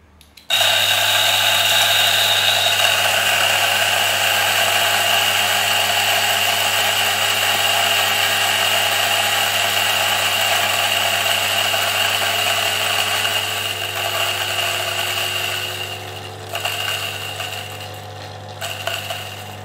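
A DF64 coffee grinder fitted with SSP cast burrs grinds 17 grams of espresso beans, a loud, steady motor whine that holds for most of the run, then thins and flutters as the last beans clear.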